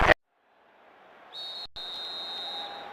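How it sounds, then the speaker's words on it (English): A referee's whistle in the FC26 football video game on PS2 sounds one long, shrill final blast, briefly broken and then held, that stands clear above faint crowd noise after a short silence. "Referee looks at his watch and blows his whistle."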